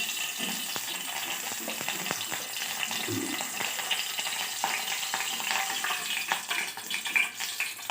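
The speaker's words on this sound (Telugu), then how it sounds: "ఇప్పుడు ప్యాన్లో ఆయిల్ వేసేద్దాం." Oil poured into a frying pan before onion, green chilli and garlic go in gives a steady close hiss with faint clinks and small crackles throughout; no one speaks.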